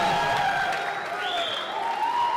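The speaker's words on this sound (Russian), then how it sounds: "Аплодисменты, аплодисменты." Steady audience applause at a concert in Saint Petersburg fills the whole stretch, a dense wash of clapping at even volume with a faint tonal hum running underneath.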